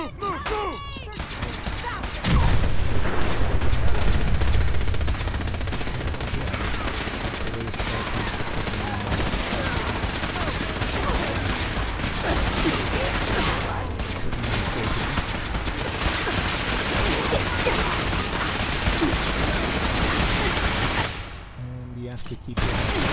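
Fallout 4 gunfire in a sustained firefight involving Brotherhood forces: continuous loud volleys of automatic and heavy weapon fire with mechanical clatter, briefly easing near the end.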